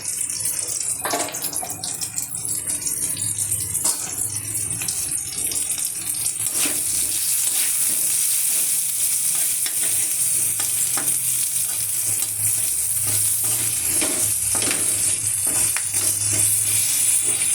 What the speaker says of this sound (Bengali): দেখুন আমি একটু অল্প সুন্দর করে ভেজে নিচ্ছি।